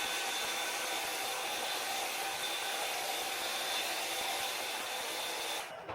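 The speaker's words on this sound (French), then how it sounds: "Donc je vais faire ça avec la brosse allumée." A heated rotating hair brush blows air steadily and loudly for several seconds, a constant broadband whoosh with no talking, cutting off abruptly at the end.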